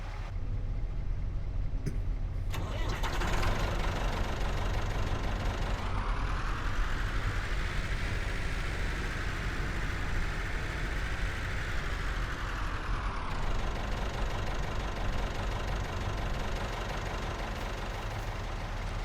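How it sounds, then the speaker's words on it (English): Tractor engine in Farming Simulator 25 running steadily at a low idle, a continuous heavy rumble that swells briefly in pitch midway through as if revved, heard alone without speech. "we'll move into the tractor, move the tractor out of the way"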